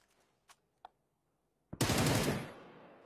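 A couple of faint isolated shots are followed by a loud, sustained burst of gunfire that trails off, during an exchange of fire in a PCL esports match in a battle royale video game, with no voices.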